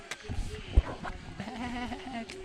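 A person imitates a sheep's wavering bleat during a varsity high school football playoff broadcast. The bleat is moderately loud over faint background noise and broadcast chatter.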